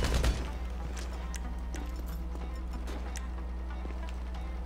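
Rapid gunfire in Grand Theft Auto V during a one-on-one match, sharp repeated cracks over a steady low in-game hum, busiest right at the start and then continuing as scattered shots.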